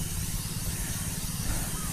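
A sprayer hisses steadily as it sprays pesticide on bitter gourd plants in a field, a continuous close broadband spray with no breaks.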